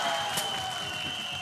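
Audience at a flying dagger magic show applauding, a brief burst of scattered clapping over a steady tonal hum from the room's sound system.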